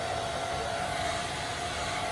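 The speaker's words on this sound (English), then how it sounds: "I'm gonna use my blow dryer on warm." A handheld blow dryer on the warm setting dries a bald cap along the hairline, giving a steady, even rush of air with a faint motor hum throughout, close and continuous, with no talking.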